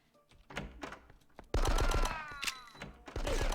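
Gunfire in Die Hard: Nakatomi Plaza, beginning with a few scattered shots and then breaking into loud, dense automatic bursts during a run-and-gun fight.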